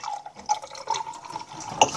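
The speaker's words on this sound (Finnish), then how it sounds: "Niin Nikki kaataa nyt näihin laseihin." Orange juice poured into glasses in a home kitchen, a soft, steady liquid trickle with small splashy glugs, quiet and close.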